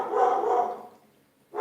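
A dog barks indoors from another room at the mailman, a long muffled bark followed by a pause and the start of another, moderately loud and slightly distant.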